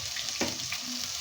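Chopped onion frying in oil for a Bengali spiced fish-and-potato dish, a steady soft sizzle throughout with a brief brighter burst of crackle near the start.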